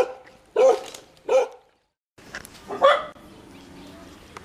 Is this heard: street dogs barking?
yes